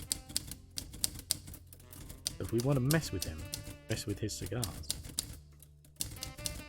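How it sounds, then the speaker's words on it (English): A computer keyboard in The Journey Down game clacks like an old typewriter, with sharp, evenly spaced keystrokes running under a spoken conversation between characters. "it sounds like a hell of a typewriter for a keyboard"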